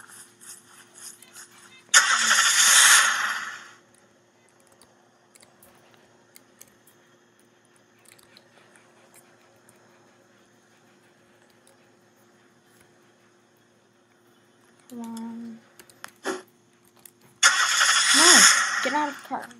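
A car engine in the video game Unturned roars up in two loud bursts, one early and one at the end, separated by a long near-silent stretch with a brief sound in between.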